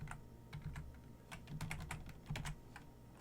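Clattering keystrokes on a computer keyboard as network router commands are entered, quick irregular bursts of taps with short pauses between them, close and fairly quiet with no voices.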